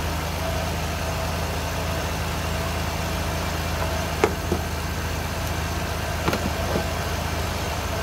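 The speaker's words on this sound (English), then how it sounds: "So we're gonna start the car." A car engine runs at a steady, close idle after a jump start from a 12-volt NOCO Boost jump starter, with a couple of faint clicks partway through.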